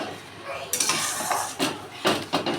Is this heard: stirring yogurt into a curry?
yes